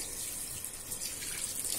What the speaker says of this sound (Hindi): तो मैंने इसमें पानी डाल दिया है